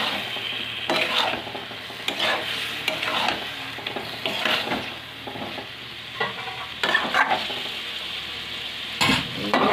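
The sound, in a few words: stirring and frying mutton with salt in pan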